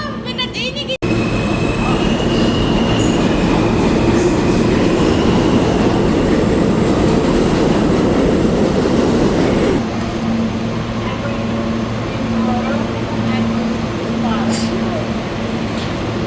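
A subway train rumbles loudly and steadily for most of the stretch, with screeching wheel and rail noise, then settles into a quieter hum with faint tones.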